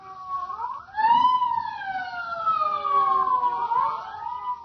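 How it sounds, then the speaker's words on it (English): Police sirens wail, rising and falling continuously, with a second siren tone overlapping, loud and fairly close, over a low rumble of traffic. "Sirens, state police, militia, all roads blocked off."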